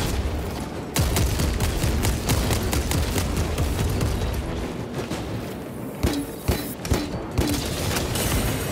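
Sniper gunfire rings out in the Warhammer 40K: Space Marine 2 video game amid a dense, loud battle din, with sharp cracking shots repeating toward the end.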